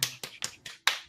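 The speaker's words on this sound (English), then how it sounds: "Everybody clap." People clapping hands during a podcast game session, six sharp, evenly spaced claps in a quick steady rhythm, close and fairly quiet, with no talk over them.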